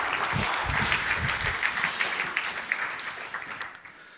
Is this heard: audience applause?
yes